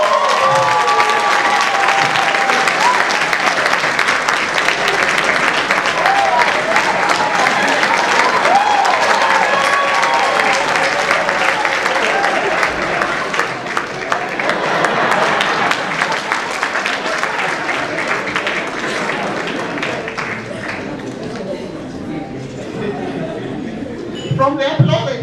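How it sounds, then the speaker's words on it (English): Conference audience applauding a winner at a scientific conference: loud, dense clapping and crowd noise sustained for about twenty-five seconds, easing slightly toward the end with some voices mixed in. "From the applause, I think the committee also deserves a clap."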